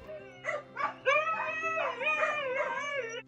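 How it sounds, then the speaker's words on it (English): Several dogs on a homestead howl together in long, wavering, overlapping cries, with a few short yips at the start, close and clear over a faint steady hum. "the dogs were having an obligatory howling moment."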